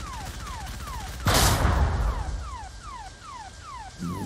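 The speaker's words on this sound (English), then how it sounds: "Nah, that explosion. Look at the smoke." Explosion from a shot in Halo ODST rebuilt in Unreal Engine 5, a sudden loud broadband blast that rolls off into a rumbling tail over repeating gunfire-like effects.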